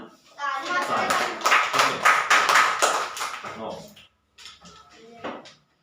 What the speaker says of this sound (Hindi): सभी लोग ताली बजाते हैं।